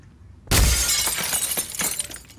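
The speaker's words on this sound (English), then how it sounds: "I hear glass breaking." Glass shattering in a video game: a sudden loud crash that breaks in at once, then tinkling debris that fades over the next two seconds, heard alone without voices.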